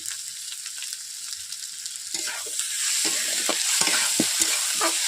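Snail (gugli) curry being sautéed in a pan, a steady hiss of frying that grows louder as spatula strokes begin, with rhythmic scrapes and taps against the pan close by.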